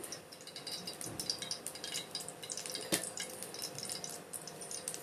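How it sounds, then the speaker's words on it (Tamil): Cooking oil trickles and drips steadily into a pan on a stove, with a light metallic clink near the middle against soft kitchen background noise. "ஒரு கடாயை அடுப்பில் வச்சு தேவையான அளவு எண்ணெய் ஊற்றணும் தாளிக்கிறதுக்கு"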